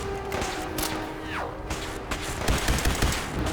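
A battle against the Brotherhood in the video game Fallout 4 brings bursts of gunfire with sharp shots and thuds at close range, over a steady background hum with a short sweeping tone in the middle.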